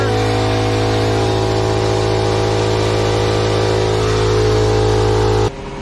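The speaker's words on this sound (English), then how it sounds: "fire up the compressor" Air compressor running steadily to fill a fire sprinkler dry system from 20 to 30 PSI, a loud continuous motor drone with a steady hum that drops off sharply near the end.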